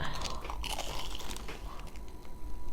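Crisp crunching bites into a fried convenience-store snack with cheddar cheese inside, several loud crackly chews close to the mic, with no talking.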